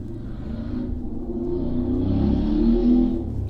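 Rush-hour road traffic with cars passing outside, a low steady rumble that swells and fades as vehicles go by, no voices.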